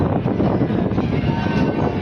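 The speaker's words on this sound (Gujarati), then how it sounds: "તો આપણી ટ્રેન આવી ગઈ છે." A local Rajkot–Veraval passenger train pulls in at a station platform, making a continuous loud rumble of wheels and carriages that stays steady and close throughout, with no talking.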